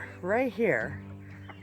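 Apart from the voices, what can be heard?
chickens clucking near the greenhouse garden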